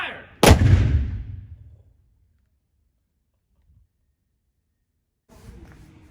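A Civil War cannon fires once, loud and close: a sharp, booming blast that rolls off and decays over about a second into silence, with brief faint noise near the end.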